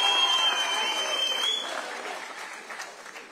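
Loud crowd applause, dense clapping that gradually fades and thins toward the end.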